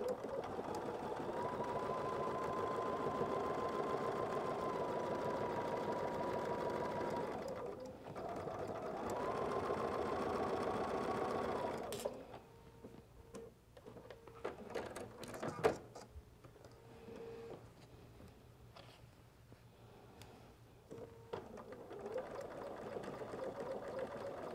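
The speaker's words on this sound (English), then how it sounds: "now we're ready to sew" A sewing machine stitches quilt foundation piecing, a steady close whirring hum for about twelve seconds, then stops, followed by quieter handling clicks and a short resumed run.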